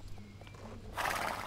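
A horse in the video game Star Stable gives a thin whinny, followed by a burst of louder hoof clatter near the end. No one speaks.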